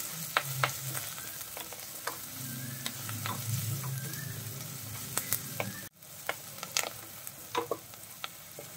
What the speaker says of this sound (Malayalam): ഈ സവാള നന്നായിട്ട് നമുക്കൊന്ന് വഴറ്റിയെടുക്കാം.